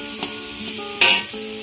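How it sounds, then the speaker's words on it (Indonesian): Ginger, galangal, bay leaves and lime leaves, with lemongrass, sautéing in a pan for beef rawon: a steady close sizzle with a couple of brief stirring scrapes, no voices. "jahe, lengkuas, daun salam, daun jeruk. Tumis sampai masak."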